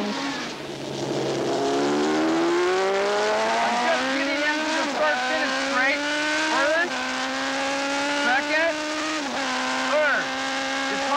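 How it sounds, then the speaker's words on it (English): Racing motorcycles scream through turn 2 at Laguna Seca in an AMA Superbike race, engines climbing in pitch with repeated gear-change dips, loud and continuous throughout, with a commentator's voice partly mixed in. "Cooley and Spencer through turn 2 and accelerating to 150 miles per hour"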